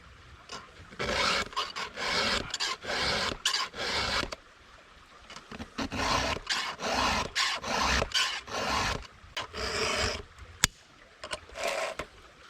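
A chainsaw chain being sharpened by hand with a file, close rasping strokes in quick bursts separated by short pauses, steady and fairly loud, with no talking.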